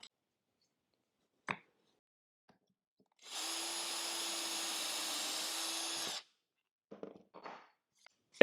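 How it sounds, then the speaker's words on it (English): A power drill bores straight down through a wooden dowel with a 1/8 inch bit, whirring steadily for about three seconds, with a few soft knocks and handling sounds before and after. "I can drill straight down through the dowel"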